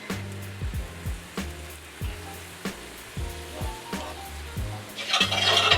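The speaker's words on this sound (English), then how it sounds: "Now I'm going to deglaze the mushrooms with 2 tablespoons of white wine." Mushrooms sizzle in a hot pan as white wine is added to deglaze, with a steady hiss and a series of rhythmic scraping or stirring strokes, the sizzle swelling louder toward the end.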